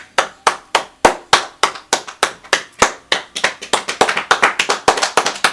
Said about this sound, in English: Let me get some claps